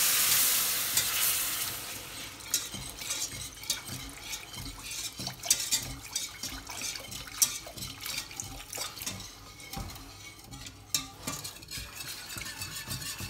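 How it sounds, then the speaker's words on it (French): Cold milk, about half a litre, is stirred steadily in a pan as it heats toward the boil, giving continuous close scraping and swishing with a faint crackle and occasional utensil clinks, with no talking. "on va laisser porter à ébullition sans s'arrêter de mélanger"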